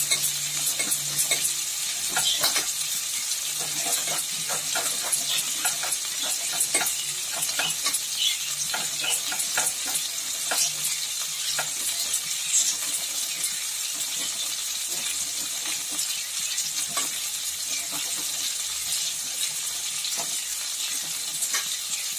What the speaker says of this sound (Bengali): আলু সব ভাজা ভাজা হচ্ছে, তার মধ্যে আমি একটু আদাকে গ্রেট করে নিচ্ছি।